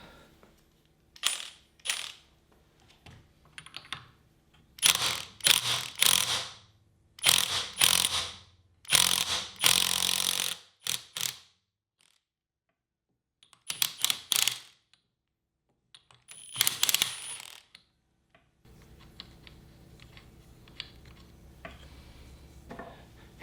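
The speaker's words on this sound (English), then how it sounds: "But I'll just go ahead and back this nut out." A ratchet backs out a nut on the rear differential cover of an FD RX-7, giving close, rapid metallic clicking in several short bursts separated by brief pauses, then a quieter mechanical rustle at the end.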